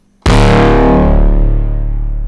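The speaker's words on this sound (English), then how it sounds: "and then with all the processing it sounds like this." A heavily processed foghorn-style synth bass patch in the Vanta Black style, built up from a plain sine wave: one loud, distorted, sustained tone that enters abruptly after a brief silence and holds with a slow rhythmic wobble.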